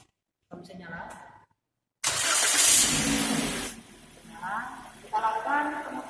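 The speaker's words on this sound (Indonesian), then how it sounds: "Kemudian kunci kontak on, mesin nyala." A petrol car engine, with its AFR/lambda oxygen sensor removed for an exhaust emissions test, cranks and catches with a loud burst, then settles into a steady idle. A person talks over it in a workshop.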